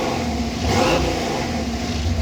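A 1935 Ford Factory-Five race truck with a 427ci engine idles with a deep, loud, steady rumble, rising in a brief rev before settling back, close by with no talking.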